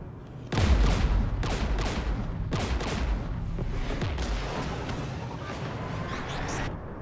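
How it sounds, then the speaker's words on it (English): Gunfire in a Mass Effect 3 firefight, loud close bursts of rapid shots and heavy booms layered over a rumbling battle din, repeating irregularly for several seconds with no talking. "We're taking fire."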